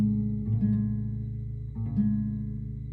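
A guitar plays a main riff: a steady low droning tone with a couple of brief plucked note changes and slides, moderately loud with no voices.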